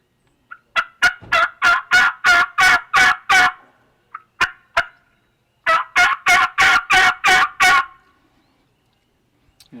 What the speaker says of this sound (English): When she hits the ground, then she'll usually give him a couple of mating yelps.